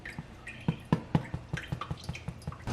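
Water drips and trickles from coconut milk curds in a quick, irregular patter of small splashes, close by, with no voices.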